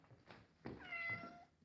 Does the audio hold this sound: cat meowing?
yes